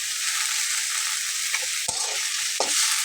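Tomato bharta with coriander leaves sizzling in a pan as it is gently stirred, a steady hiss with a few distinct spoon scrapes and taps near the end.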